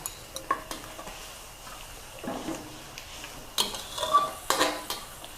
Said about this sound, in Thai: เคี่ยวค่ะเคี่ยวเคี่ยวเคี่ยวให้น้ำซอสมันเจียมจ้นขึ้นมาเนาะ